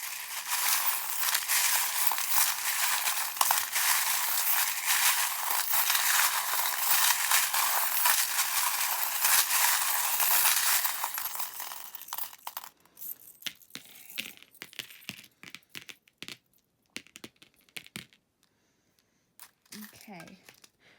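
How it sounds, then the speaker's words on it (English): Small metal charms rattle and clink together in a dense, continuous jingling shuffle, then the noise stops and scattered light clicks and taps follow. "if you don't like the sound of the charms being shuffled"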